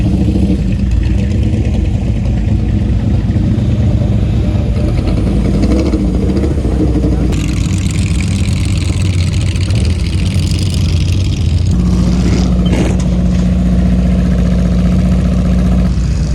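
Parade of expensive cars driving past at the Pebble Beach Concours d'Elegance, a loud continuous drone of idling and revving engines close by, with shifting tones as vehicles roll through.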